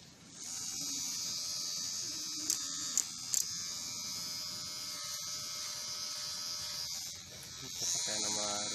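KEMEI KM-2850 electric hair clippers run steadily while cutting hair, a continuous close buzzing hum with brief clicks partway through and a dip near the end, with faint voices in the background.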